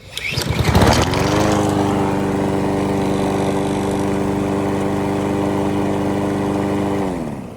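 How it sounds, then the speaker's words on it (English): A Honda lawnmower engine, just refitted with a new ignition coil, fires up after a short pull-start burst. It settles into a loud, steady, close running drone for about six seconds before shutting off. "as you can see, the mower is running"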